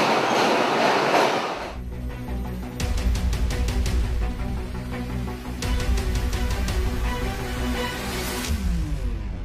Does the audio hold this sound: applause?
no